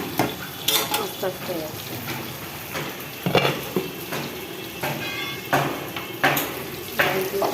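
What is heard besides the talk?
onion and green chillies frying in a pan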